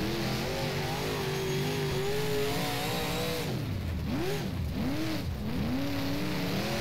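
Late model race car on Kokomo Speedway in rFactor, its engine droning steadily at close range, then rising and falling in several quick sweeping pitch swings as it revs through the turns, with no talk.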